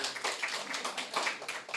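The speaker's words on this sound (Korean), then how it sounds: "박수 한번." A congregation applauds inside a church, a short burst of dense, brisk clapping from many hands with no voices over it.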